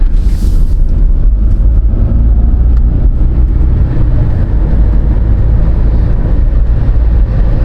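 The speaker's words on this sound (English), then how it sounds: "We'll go burnish in our brake pads." A Toyota Prius driving along to burnish its new brake pads, a loud steady road rumble and tire noise heard from inside the car, with a brief wind buffet at the start.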